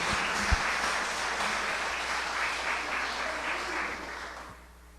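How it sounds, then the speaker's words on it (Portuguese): A church congregation applauds steadily in a garage worship service, a dense, sustained wash of clapping that holds for several seconds before tapering off near the end. "Você pode aplaudir mais forte, por favor, em nome de Jesus."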